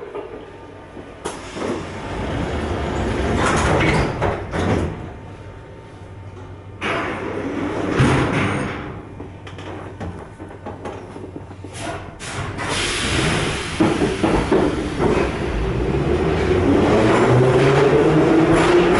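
A Saint Petersburg metro train at a station as the doors close and it departs, with a hiss, rumble and rising motor whine building loudly over the final seconds.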